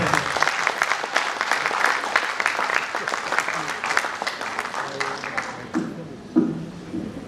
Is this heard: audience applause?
yes